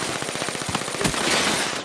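Rapid automatic gunfire from the video game Call of Duty: Black Ops 3 rattles off in a dense, close burst, with one louder crack near the middle and a brief tail at the end.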